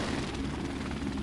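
Helicopter in the Modern Warfare Remastered video game: a steady, muffled rotor drone held at an even level throughout, fairly quiet and continuous with no talk over it.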